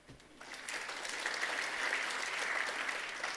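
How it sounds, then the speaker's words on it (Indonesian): Church congregation applause during an Indonesian sermon, rising quickly from quiet into a steady, dense wash of clapping from many people in a hall and holding at an even level. "Tepuk tangan."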